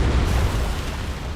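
Torpedoes launching in the space battle game Battlefleet Gothic Armada 2, a loud low rumbling boom that swells at the start and then rolls on as a heavy, steady roar, with no voices over it.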